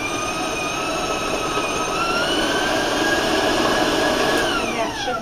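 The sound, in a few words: electric mixer with paddle combining cookie dough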